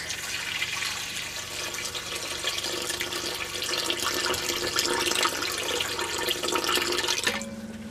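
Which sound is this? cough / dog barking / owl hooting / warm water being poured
warm water being poured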